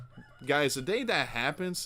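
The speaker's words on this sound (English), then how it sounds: "I truly apologize if you hear the rooster in the background." A rooster crows in the background while someone speaks over it, the crowing blending with his voice for most of the short stretch.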